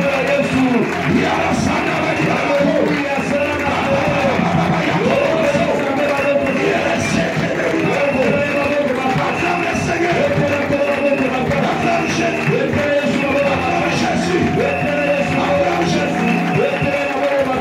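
A French-speaking church congregation cheers and shouts in praise of Jesus, a dense, continuous roar of voices, whoops and cries that stays loud throughout, with a voice speaking briefly over the crowd.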